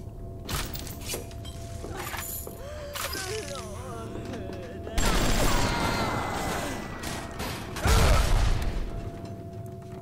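Anti-personnel rounds fired in BioShock, with a few loud bursts of gunfire breaking through a busy mix of game sounds, mechanical clatter and impacts.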